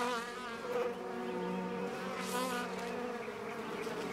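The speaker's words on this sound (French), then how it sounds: "Monsieur Dugarin a repéré les nids de guêpes polistes, installés sous presque chaque tuile du toit" Polistes paper wasps nesting under the roof tiles of a house make a steady, close insect buzz that holds for several seconds, swelling slightly around the middle.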